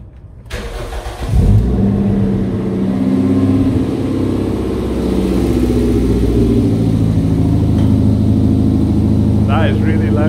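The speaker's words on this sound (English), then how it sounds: "The first start in 2 months. Let's see if it starts first time." An 18-year-old Toyota MR2 Mk3 engine, first start in two months, cranks briefly, catches and roars to life, then keeps running loud and steady with a few rises in revs.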